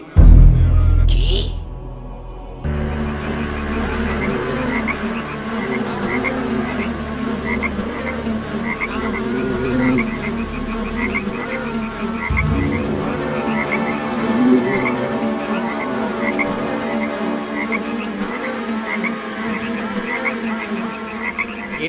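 Many cartoon frogs croak continuously in a dense chorus, with a brief loud thump and noise at the start.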